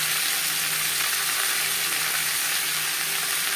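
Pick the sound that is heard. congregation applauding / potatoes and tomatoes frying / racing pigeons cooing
potatoes and tomatoes frying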